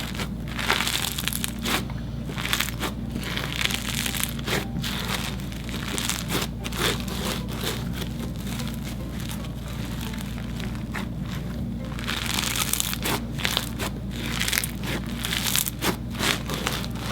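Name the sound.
squishing crunchy slime full of foam beads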